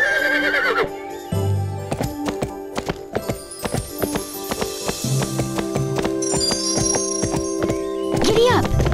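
In the Barbie Horse Adventures: Wild Horse Rescue PS2 game, a horse whinnies loudly, then its hooves clip-clop in a steady run under game music and chimes, with a brief voice near the end.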